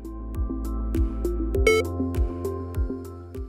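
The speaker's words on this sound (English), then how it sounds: "With an alert message, you will hear a beep." An alert beep from an ACIST CVi contrast injector system, a single short, bright tone sounding once partway through over a steady rhythmic pulsing background.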